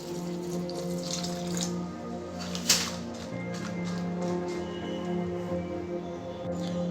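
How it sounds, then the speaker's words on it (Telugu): Water pours over dried red chillies in a bowl, a steady, close splashing and trickling stream with a brief knock partway through. "ఈ ఎండుమిరపకాయలని వాటర్లో 5 నిమిషాలు నాననివ్వాలి"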